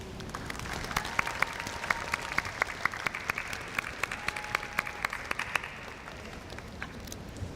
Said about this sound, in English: thank your family and your teachers, advisors, coaches, and mentors who helped you achieve this moment with a round of applause.